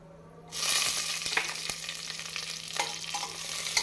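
Saffron and green chillies sizzle and crackle in hot oil for chicken biryani after a sudden start, with scattered pops and clinks under a steady frying hiss.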